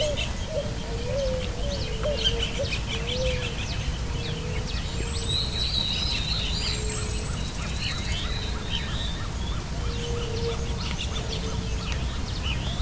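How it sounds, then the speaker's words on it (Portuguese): Picui ground doves and other birds gather at a feeder in the caatinga, giving soft repeated coos alongside scattered thin chirps and a few sharp whistled calls over a steady outdoor background hiss. "Essa rolinha picuí saiu de papo cheio"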